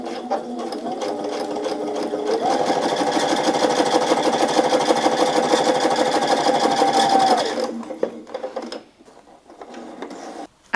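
A sewing machine stitching shirring on a scrap of fabric, a rapid steady mechanical whirring run of about five seconds that starts and stops, close and clear with no talk.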